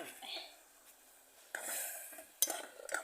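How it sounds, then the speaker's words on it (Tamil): A spoon scrapes and stirs tempered spices with chili powder, salt, turmeric and tomato in a pan at a roadside outdoor cooking spot, giving quiet scraping with a few sharper metallic clinks near the end. "நல்லா இந்த மாதிரி கிண்டி விடுங்க"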